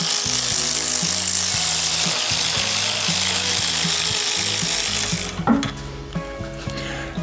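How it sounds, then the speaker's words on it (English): Mechanic's ratchet wrench clicking rapidly while removing bolts from a Honda CB500 engine during a strip-down, a dense run of metallic ratcheting that stops partway, followed by a few scattered clanks of tools and parts. "The way you're taking them bolts off."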